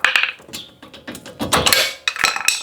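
Metal tools clink and tap sharply several times in quick irregular succession, close and fairly clear, as a screwdriver is pulled from a truck's wheel hub during a passenger-side hub replacement on a Chevrolet Colorado or GMC Canyon.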